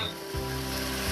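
Beef pieces sautéing in a hot pan for tripe sour soup, a steady close sizzle that swells after a faint start and holds continuous, with no talking.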